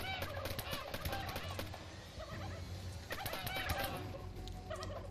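Turkeys gobble and cluck in the zombie survival video game How to Survive 2, a dense layer of repeated bird calls over busy game effects and low rumbling music for about five seconds.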